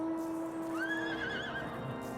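An ordinary horse in Final Fantasy gives a single clear, wavering whinny that rises and trails off over a steady background hum.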